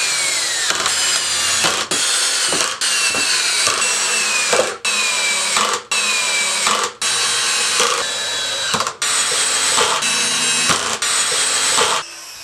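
A power drill whines into wood in repeated bursts, drilling pocket holes in shelf pieces, about a dozen short runs separated by brief pauses, loud and close with no voices.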